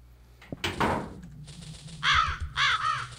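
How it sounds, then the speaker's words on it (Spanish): Crows caw in the video game Paranoiac, two bursts of harsh repeated calls in the second half, preceded by a sharp knock-like thud and a rustling sound. "aquí hay cuervos?"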